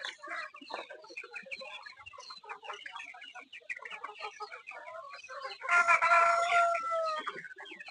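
Many Sonali chickens on a poultry farm cluck and chatter continuously nearby, with a louder rooster-like crow near the end.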